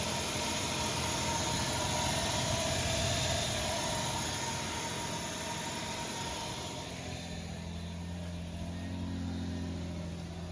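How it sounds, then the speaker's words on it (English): Nissan Pathfinder engine idling steadily after repair work, with a broad whooshing rumble that eases slightly partway through, steady and without voices. "Now the car is now idling, so that was an awesome accomplishment."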